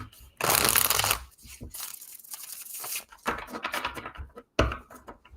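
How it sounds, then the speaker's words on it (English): Tarot cards shuffled by hand in bursts of dense riffling and flicking, loud and close, with short pauses between handfuls and a brief silence near the end. "I'm going to shuffle my tarot as well so we can put them together."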